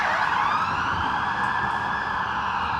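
An ambulance siren on a Vancouver street wails loud and steady, a continuous sweeping tone that fills the whole stretch with no voices over it.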